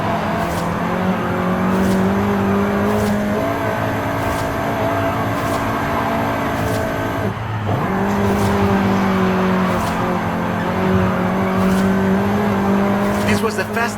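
Volkswagen Golf R, seventh generation, driven in the racing game Forza Horizon 5, its engine droning steadily with rhythmic gear shifts and a brief dip, while a narrator talks over it throughout.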